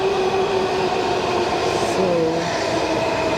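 A Washington Metro Silver Line train slows on its approach, with a steady loud rumble of wheels on track and faint tonal squeals and hums from braking, under a brief spoken word.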